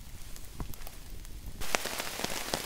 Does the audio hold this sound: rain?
yes